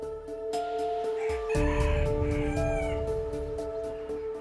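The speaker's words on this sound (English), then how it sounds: "The birds are nothing but a nuisance." Chickens in a neighbour's yard next door cluck and squawk in a busy, uneven run of calls, fairly close and loud, with a louder burst in the middle.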